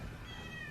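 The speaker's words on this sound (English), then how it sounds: "Sorry, that's my cat." A pet cat gives a single short, faint meow indoors close to a microphone, a brief drawn-out cry over a low room hum.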